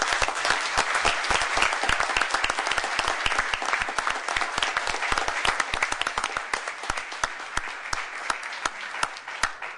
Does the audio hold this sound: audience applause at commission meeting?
yes